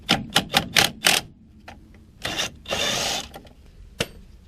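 A 1/2 inch wrench works a nut on a steering gear bolt of a 1979 Ford F100: a quick run of sharp ratcheting clicks, a pause, then a longer rasping turn and a final click, close and fairly quiet.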